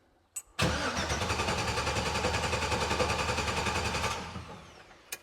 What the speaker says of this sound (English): So I'm going to shut off the fuel pumps and turn the key and see if it'll crank.